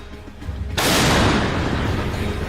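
German artillery fires a single heavy boom that bursts in loudly after a brief low rumble and then rolls on as a sustained roar.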